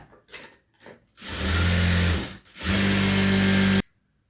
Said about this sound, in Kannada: ಲಾಸ್ಟ್ ಎಡ್ಜಲ್ಲಿ ಲೈನಿಂಗ್ ಮೇಲೆ ಬರೋಂಗೆ ಒಂದು ಹೊಲಿಗೆ ಹಾಕಿ